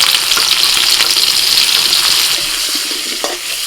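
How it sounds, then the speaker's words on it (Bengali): Salted, turmeric-coated potatoes fry in hot oil with a loud, close, continuous hiss and crackle that eases slightly toward the end, no talking. "মাংসটা তেল গরম হয়ে গেছে আলুটা ভেজে নিচ্ছি"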